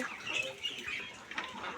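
Poultry calls faintly in the background, a scattered series of clucking and quacking sounds from several birds at a distance.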